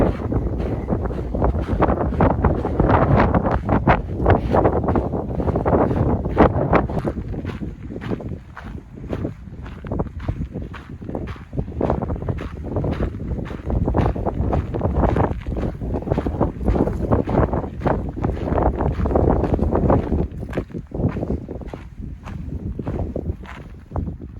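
Steady roaring wind buffets the microphone in surging gusts in a canyon on the Pacific Crest Trail, loud and continuous throughout, with occasional crunching footsteps beneath.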